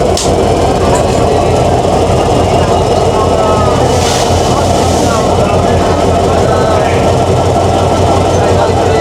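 The Rupashi Bangla Express runs toward Jessore Junction in Bangladesh, heard from onboard as a loud continuous rumble of wheels and carriages with a steady rhythmic rattle throughout.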